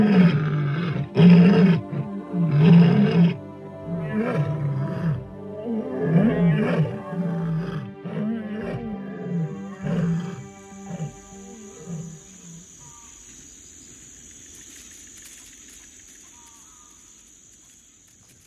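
Desert lions roar in a series of deep, loud, rhythmic grunting bursts that trail off, with insects chirping faintly in the background as the roaring fades.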